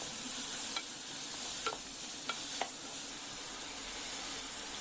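Vegetables with tomato and onion sizzle in a pan for a vegetable biryani, a steady close frying hiss broken by a few scraping stirs of a spoon, with no voices.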